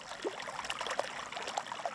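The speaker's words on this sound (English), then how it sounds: "Everywhere you hear the sound of ice melting into water." Meltwater from glacier ice trickles and drips in a quiet stream, faint, with small irregular bubbling plinks scattered over a soft continuous wash.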